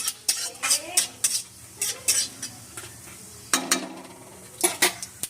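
Cumin seeds frying in hot oil for a Bengali pointed gourd kofta curry, with sharp clinks and scrapes of a spatula against the pan over a faint sizzle, close up and intermittent.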